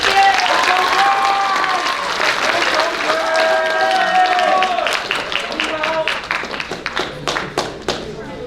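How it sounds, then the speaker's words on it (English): An audience claps at a Muleshoe athletic banquet, dense sustained applause that thins toward the end into scattered individual claps, with cheering and voices mixed in. "Let's give these guys one more round of applause."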